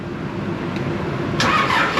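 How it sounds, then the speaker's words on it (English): An irrigation pump engine on an Indiana corn farm cranks and catches, a steady low mechanical rumble that grows louder and brighter near the end. "Gonna try and start this irrigation up."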